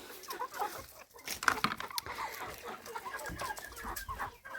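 Faverolles hens cluck in a run or coop, a loose series of soft, mid-distance clucks and short calls over a noisy outdoor background.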